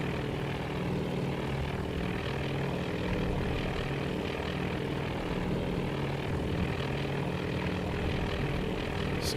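A propeller aircraft engine in the naval air-combat game Task Force Admiral drones steadily through a dive, a continuous near, even roar with no voices.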